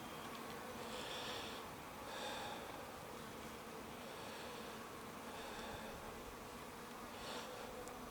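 Honeybees buzz steadily around hives at a farmstead apiary, a dense, continuous drone with faint swells as the bees grow agitated over a little remaining honey.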